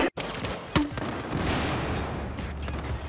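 Gunfire in the video game Battlefield 4 on low settings: a sharp shot near the start, then a dense rattling spray of rapid shots filling the rest, loud and continuous.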